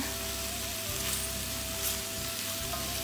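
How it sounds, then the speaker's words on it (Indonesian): Spices for sate padang sizzle steadily in a hot pan while being stirred and sautéed, a dense, continuous frying hiss heard up close with no talk. "Kita aduk, kita tumis sebentar."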